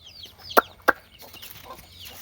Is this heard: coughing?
no